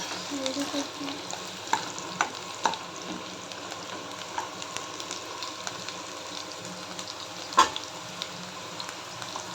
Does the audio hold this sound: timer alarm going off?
no